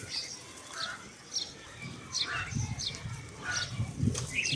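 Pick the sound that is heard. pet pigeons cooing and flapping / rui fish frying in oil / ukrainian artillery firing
pet pigeons cooing and flapping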